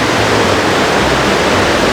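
A raging river on Vancouver Island rushes past near the Little Huson Caves, a loud, continuous broadband roar of churning water with no voices.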